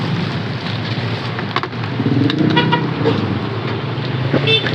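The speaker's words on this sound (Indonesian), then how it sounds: "Saya ganti jas hujan teman-teman karena hujan" Steady rain falls around someone on a morning walk through a narrow alley, a continuous close hiss of drops on surfaces with traffic noise and a brief horn-like toot mixed in.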